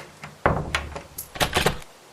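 A door is being locked up at the end of a tour, with a run of close wooden thunks, latch clicks and rattles in quick succession.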